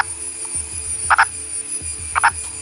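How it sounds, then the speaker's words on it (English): A purple frog, a burrowing species found only in India, gives two short paired croaks about a second apart over a faint low hum, close and clear. "nobody ever thought to look for the purple frog, a species that is located only in India"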